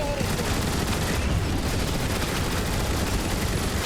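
Weapons firing nonstop in Transformers: War for Cybertron, a dense, loud wall of rapid gunfire and blasts with no gaps, filling the whole short stretch.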